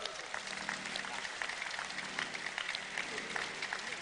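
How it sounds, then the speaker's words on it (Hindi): A group claps for themselves at a yoga gathering, steady, dense clapping that holds throughout at moderate volume, with voices mixed in faintly underneath. "तो अपने लिए भी ताली बजा लो।"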